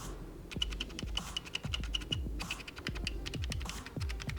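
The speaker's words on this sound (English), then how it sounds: "So this is the creative Sound BlasterX Vanguard K08, RGB Mechanical Keyboard with some extra keys and of course dedicated media keys too" Typing on a Creative Sound BlasterX Vanguard K08 RGB mechanical keyboard: a steady run of close, crisp key clicks with a low thock under each press, alone with no voices.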